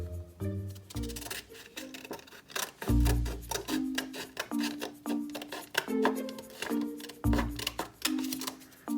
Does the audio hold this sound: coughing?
no